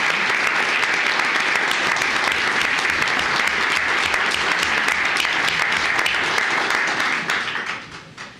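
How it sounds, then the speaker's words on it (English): Sustained applause from a large crowd at a county commissioners court meeting, steady and dense for about seven seconds before tapering off and fading out at the end. "Let's give them a big round of applause."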